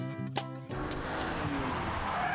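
Tyres of a Bentley Continental GT sliding and squealing on a race circuit as the car understeers, heard as a sustained loud hiss of tyre scrub over the engine drone after a brief downshift blip.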